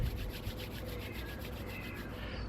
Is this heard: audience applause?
no